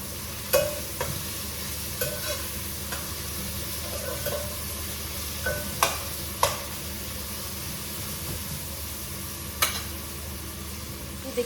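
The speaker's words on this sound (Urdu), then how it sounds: "جب تک پیاز فرائی ہو رہی ہے" Onions fry in a pan with a low, even sizzle. A few sharp taps and clinks from a utensil come through at irregular moments, and there is no talking.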